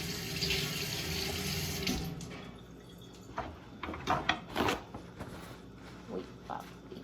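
Asparagus rinsed under a running kitchen tap: a steady rush of water for about two seconds, then softer splashing and handling of the wet spears in the sink, close by with no speech.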